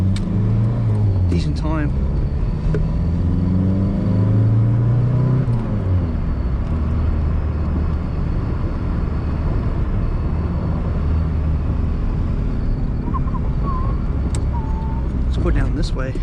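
A 1984 Pontiac Fiero drives along, its engine humming steadily with shifting whine and road rumble throughout, close and fairly loud, while someone talks over it from inside the car.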